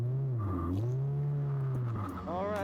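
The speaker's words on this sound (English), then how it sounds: "Racers, start your engines." Race car engines rev loudly and steadily at the start of a race, a deep continuous drone whose pitch rises and falls, with a faint voice underneath.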